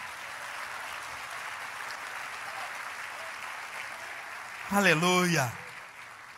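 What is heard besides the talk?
church congregation applause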